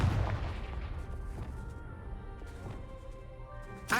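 A Confringo blasting spell explodes in a Harry Potter video game, a loud impact at the start that decays into ringing tones and scattered cracks, with another hit at the very end.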